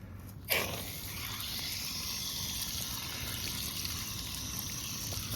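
Water poured into a bag of Quikrete concrete mix, a steady broadband rush that starts abruptly and continues evenly, close and fairly quiet, with no voices.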